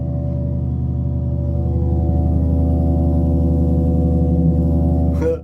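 A steady low drone from a Korg MS-20 analog synth imitating a refrigerator hum, with stacked tonal bands and faint pulsing that holds level throughout before a brief click-like burst at the end.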